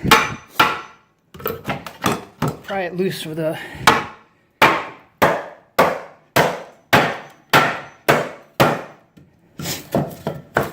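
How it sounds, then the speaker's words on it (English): A hammer strikes a wooden stair tread again and again, sharp loud blows with ringing decay, briefly interrupted by someone talking. "even take a hammer, bang it around"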